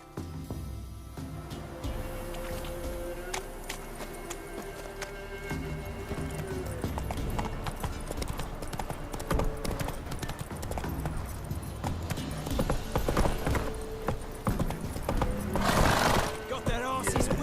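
Horse hooves galloping in The Witcher 3, a fast rhythmic clip-clop of hoofbeats running throughout under game music and other game sounds, with a short burst of noise near the end; a voice speaks over it.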